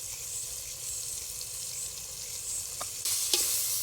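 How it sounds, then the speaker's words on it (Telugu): Salt, ginger and garlic stirred into a pan of ponaganti greens sizzle steadily, with a few scraping clinks of the spoon near the end, close and continuous with no talk. "దీన్ని బాగా కలుపుకుందాం."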